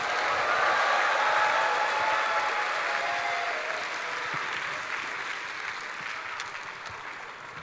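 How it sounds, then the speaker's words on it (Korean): Congregation at a Korean church young adults' retreat service cheering and applauding as the pastor steps out, a dense sustained wash of clapping and crowd noise that stays loud, then gradually eases. "할렐루야로 하나님께 영광 돌리고 환호로 목사님 모시도록 하겠습니다"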